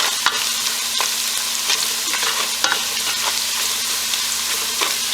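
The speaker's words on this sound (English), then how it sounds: "I'm going to let this fry a little bit." Beans with crayfish, salt and pepper frying in a pan, a constant loud sizzle with scattered spatter pops and scraping stirs, heard alone without talk.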